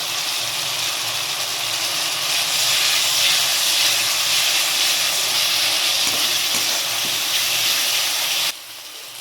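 Kashmiri chili powder dropped into hot oil in a pan, throwing off a loud, continuous hissing sizzle that swells slightly, then drops abruptly near the end.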